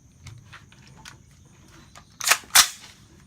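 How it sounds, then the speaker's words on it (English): Two sharp, loud shots in quick succession from a Smith & Wesson M&P 15 rifle firing .223 rounds at a Kevlar helmet outdoors, after faint ticking and rustling. "Let's see what a 223 round does to a Kevlar helmet, shall we?"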